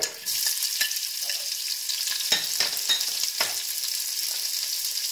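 Sliced onions frying in a pan with mustard seeds and cumin for an Indian turkey-breast curry, giving a steady loud sizzle with several sharp crackles and spits throughout.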